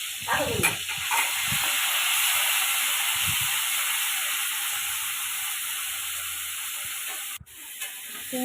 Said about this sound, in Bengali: এবার একে একে আমি চিনি মাছগুলো ভেজে নেব